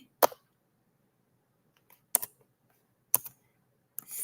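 Sparse keyboard typing, a few separate clicks and short bursts of keystrokes spaced about a second apart, close and fairly quiet with near silence between.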